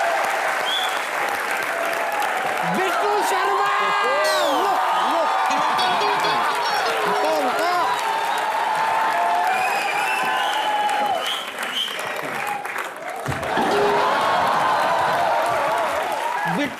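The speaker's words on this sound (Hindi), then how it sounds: "जोरदार तालियां करण सर के लिए।" Loud studio audience applause and cheering for Karan Johar on a comedy talk show, a continuous roar of clapping with music and people talking over it, surging again near the end.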